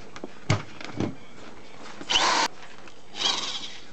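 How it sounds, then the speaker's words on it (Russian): Electric drill fitted with a drill-bit sharpening attachment for 3.5–10 mm bits, giving a couple of short clicks followed by two brief bursts of whirring, quiet and close, with pauses between. "Включить дрельку в розетку."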